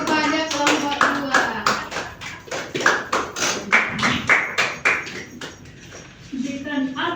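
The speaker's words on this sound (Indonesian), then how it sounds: "Oke, kita berikan aplaus kepada kelompok" Classroom applause for a student group after their presentation: a few seconds of scattered hand clapping mixed with voices, fairly close and moderately loud.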